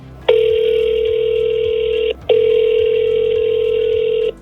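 An outgoing telephone call rings back with two long, steady electronic tones separated by a brief gap, loud and close, with no voices.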